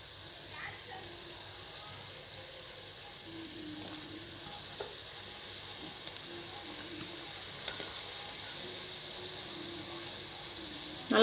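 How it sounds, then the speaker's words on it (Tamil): Maida biscuit dough pieces frying in hot oil give a steady, low sizzle throughout, with faint scattered clicks and small pops of a utensil near the end. "நான் இப்போ ஒவ்வொன்றா போட்டு ஃப்ரை பண்ணி எடுத்துக்கிறேன்."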